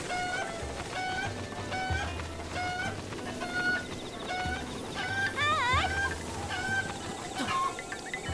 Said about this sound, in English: Oh, here's another chicken.